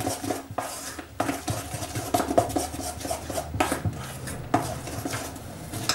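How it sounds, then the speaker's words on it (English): Cake batter tinted with black gel food colouring is mixed in a bowl, giving close, rhythmic scraping and clinking strokes that repeat steadily with short pauses, and no one speaks. "Just simply add black gel food coloring and just mix it up until it gets nice and black."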